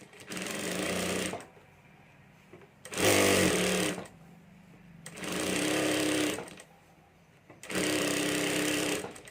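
A sewing machine stitches a folded fabric strip on a handbag in four loud, close bursts of steady whirring, separated by short quiet pauses.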